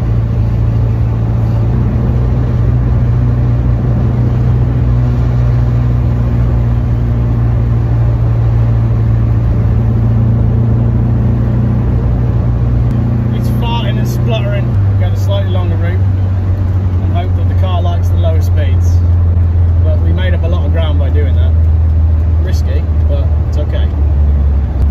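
A 1969 Renault 10 engine hums steadily while driving, its pitch holding then dropping as the gear changes, with a constant loud drone throughout.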